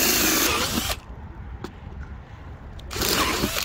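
A power drill drives screws through an RV front cap into the steel framing behind it, with loud, close whirring bursts at the start and end and a quieter pause between.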